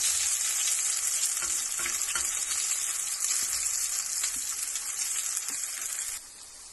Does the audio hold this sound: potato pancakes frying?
yes